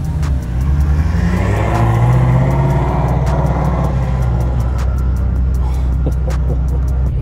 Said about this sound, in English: There goes Alex with the GT350.